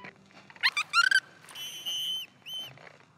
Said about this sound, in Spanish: Danos un buen silbido, amigo.